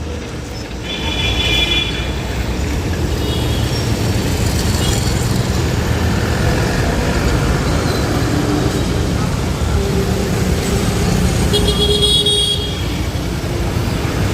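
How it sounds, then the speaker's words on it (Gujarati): Buses pulling out of the Rajkot bus stand gate, where the speed breaker has been removed: a steady, loud wash of engine rumble and traffic noise throughout, with a couple of brief horn toots, and no voices. "સ્પીડ બ્રેક જ કાઢી નાખવામાં આવ્યું છે હવે બસો આરામથી નીકળી રહી છે"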